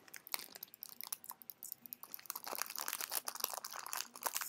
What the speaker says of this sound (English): Stop crumpling that up